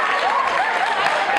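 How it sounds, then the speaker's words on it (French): An audience claps steadily at a gathering, a dense continuous wash of applause from a crowd, loud and close throughout. "Applaudissez pour le Mali."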